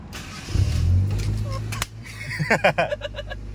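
A Honda Civic's engine cranks and briefly catches with a low rumble, then cuts out abruptly, followed by close voices talking.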